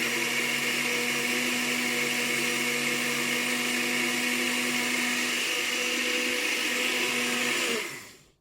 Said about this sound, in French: Et maintenant, je vais mixer tout ça.